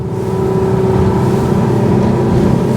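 A Capelli Tempest 1000 rigid inflatable boat's engine roars steadily at about 29 knots, a loud constant drone mixed with rushing wind and water noise throughout.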